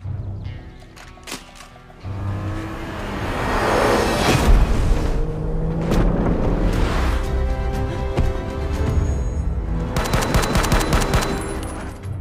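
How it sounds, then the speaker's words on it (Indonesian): Gunfire rips through an action-film scene, bursts of rapid automatic shots and single cracks over a loud, dense bed of effects and music, continuous and close for the whole stretch. "ternyata Joe diketahui oleh Lovdah yang berniat untuk menembak Joe"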